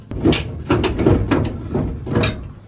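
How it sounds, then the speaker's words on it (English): The door of a 1958 Chevrolet Apache truck, with a rusted-out lower hinge and a sagging door, is worked open with a series of creaking, scraping metal groans in uneven bursts up close. "So this door doesn't hang by itself. It just kind of sags down once you open it."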